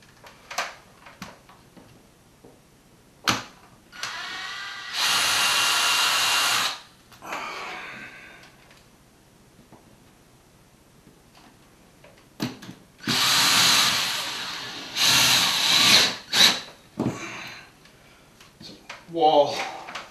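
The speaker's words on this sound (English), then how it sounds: "I can drive the screw directly in" A power drill drives screws into wall sheets and wall anchors in several short, loud whirring bursts, with quieter gaps and scattered clicks and handling noises between them.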